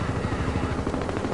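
Helicopter in the game Crysis 2, a loud, close rotor thumping in a fast, steady pulsing rhythm over a rough engine roar, continuous throughout with no talk.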